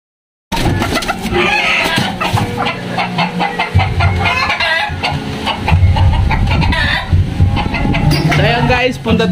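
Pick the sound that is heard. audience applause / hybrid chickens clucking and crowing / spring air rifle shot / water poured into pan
hybrid chickens clucking and crowing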